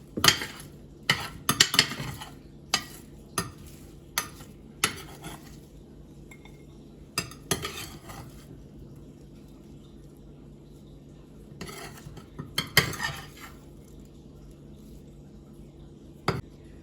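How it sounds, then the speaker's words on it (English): Brussels sprouts are tossed in a pan and plated, with scattered clinks and scrapes of a utensil against cookware in irregular bursts, close and fairly quiet, separated by short pauses. "put some of the Brussels sprouts, maybe toss it a little bit, and then put them on a plate"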